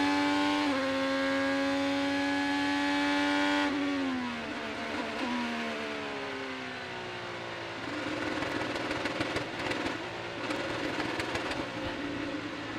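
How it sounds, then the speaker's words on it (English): An IndyCar race car engine drones at a steady pitch-limited tone from the pit speed limiter, then the pitch drops and the engine stutters and crackles as it slows, loud and close. "Sounds like the pit speed limiter's on."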